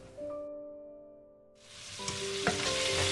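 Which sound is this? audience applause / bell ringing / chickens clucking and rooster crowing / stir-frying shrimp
stir-frying shrimp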